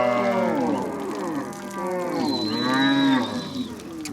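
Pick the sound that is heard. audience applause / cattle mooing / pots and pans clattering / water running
cattle mooing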